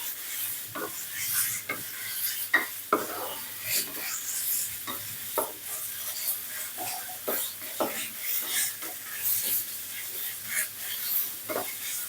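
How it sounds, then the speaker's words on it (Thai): Pork stir-fried with shallots and garlic in a pan over low heat, giving steady scraping stirs of a spatula with irregular clinks over a soft continuous sizzle, close and moderately loud, with no talking. "ผัดหมูไปเรื่อยๆค่ะ"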